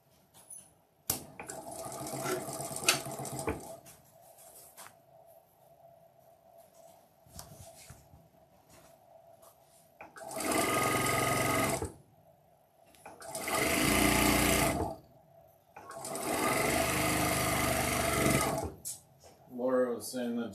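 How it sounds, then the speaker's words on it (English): A sewing machine stitches the sashing onto a quilt row in three loud bursts of a few seconds each, separated by pauses with talking and handling noise. "we're going to be sewing the last sashing onto the bottom of this row"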